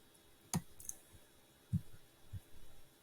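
A computer mouse gives a sharp right click while someone works in Silhouette Studio design software, a few quiet isolated clicks scattered across a near-silent room.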